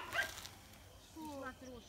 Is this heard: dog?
yes